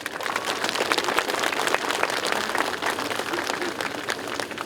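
Audience applause at an outdoor statue unveiling ceremony for President Park Chung-hee in front of the Gyeongsangbuk-do provincial office, dense steady clapping from a sizable crowd sustained throughout.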